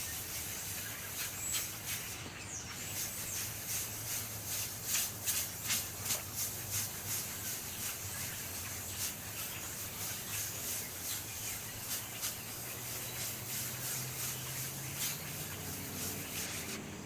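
Steady rubbing and hissing as a Black Arkansas sharpening stone is polished with powder, a continuous abrasive scrub with faint rhythmic strokes, close and even throughout, with no talking.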